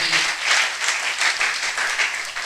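Church congregation applauding during a sermon, a dense steady wash of many hands clapping indoors, loud and continuous for a couple of seconds.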